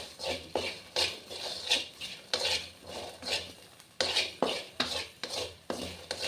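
Food is stirred and fried in a metal pan in a home kitchen, with repeated scraping clinks of a utensil against the pan, steady and close, over a soft sizzle and with no talking.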